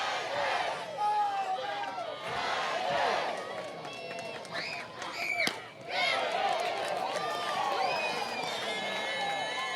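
A college softball crowd at an Alabama–Auburn game cheers and chants to rally Auburn's offense, with loud, sustained voices, whistles and shouts rising in waves, under a broadcaster's commentary.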